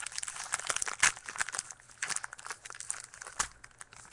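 Crinkling and tearing of a 2013 Topps Strata football card pack being opened by hand, soft close-up crackles with a few sharper rips, alone with no talk.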